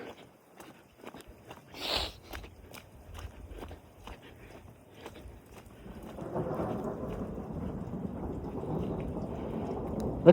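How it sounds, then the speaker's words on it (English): Thunder rumbles through a hailstorm with snow in Mesquite, Nevada, low rolling energy building and holding steady in the second half, with hail and rain pattering and a few sharp impacts throughout. "It's thunder snow."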